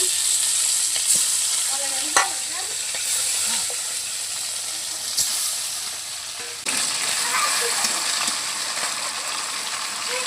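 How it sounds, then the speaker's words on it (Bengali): Fish fries in oil in a pan over a clay stove, a close, continuous sizzle broken by a couple of sharp clinks and a sudden burst of louder spitting near the end, with no talking. "এখন বাকিগুলো তেলে দিয়ে দিচ্ছি"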